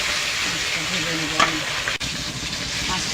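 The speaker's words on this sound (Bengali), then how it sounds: "মাছটা ভেজে নেব" Fish fries in hot oil in a wok, a dense, loud, continuous sizzle heard up close, with a brief stir or scrape partway through.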